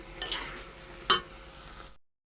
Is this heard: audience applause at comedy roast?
no